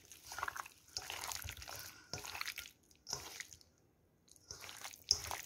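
Chicken shawarma marinade with squeezed lemon is mixed by hand in a bowl, giving close, wet squelching and squishing in uneven bursts with brief quiet pauses.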